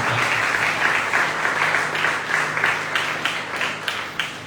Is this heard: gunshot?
no